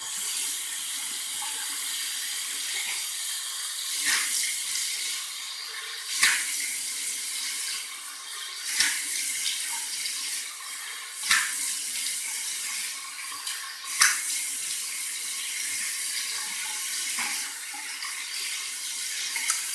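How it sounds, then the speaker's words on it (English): Steady warm water running from a tap fills the clip, with a constant hiss and occasional splashing bursts as hands move through the stream. "let's do a warm water rinse from the tap and a cold water rinse"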